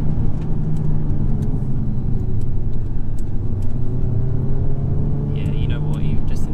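A VW Golf MK7 GTI Clubsport 40th Edition drives along with a low, steady engine drone and road rumble from inside the cabin, while people talk over it.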